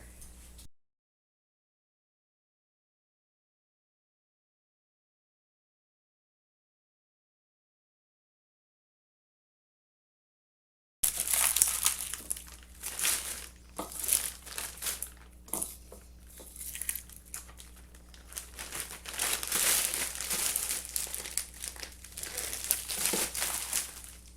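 After a long silence, close, steady crinkling and rustling of plastic Ziploc freezer bags as chopped onions are handled and packed, with scattered sharper crackles.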